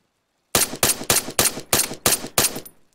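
Seven sharp, evenly spaced gunshots crack out in a quick rhythmic burst in Arma 3 Altis Life during a bank shootout, each loud and close with a short decay, after half a second of silence.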